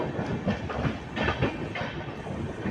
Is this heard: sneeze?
no